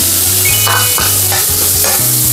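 Onions sautéing in oil in a frying pan, a loud, close, continuous sizzle with a few stirring scrapes and clicks.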